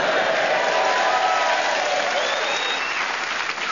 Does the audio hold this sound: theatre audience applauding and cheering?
yes